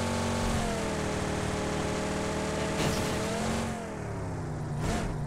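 A car driven in the mobile battle royale game BGMI, its engine droning steadily with shifting revs and a brief dip near the end, loud and continuous with no talk.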